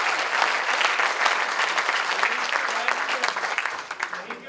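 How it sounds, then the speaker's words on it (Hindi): An audience at a national poetry festival in India claps vigorously in dense, sustained applause that tapers slightly toward the end, with no voices standing out. "एक बार पूरा सदन उनके सम्मान में जोरदार तालियां बजाएं।"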